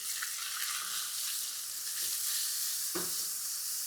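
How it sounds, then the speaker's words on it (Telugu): Curry leaves, mint, turmeric and ginger-garlic paste fry in oil for a spicy chicken curry, giving a steady close sizzle with a few stirring scrapes and pops and no voices. "కరివేపాకు, పసుపు, అల్లం వెల్లుల్లి ముద్ద, పుదీనా, ఈ 4 నూనెలో ఫ్రై అయితే చాలా క్రేజీ ఫ్లేవర్ బయటకు వస్తుంది."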